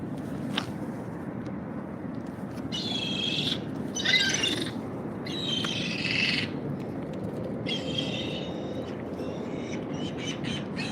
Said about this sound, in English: That's a big ass seagull right there